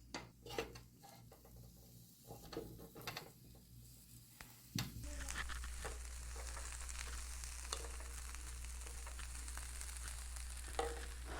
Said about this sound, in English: I'm gonna stir fry cauliflower and boil diced potato in olive oil.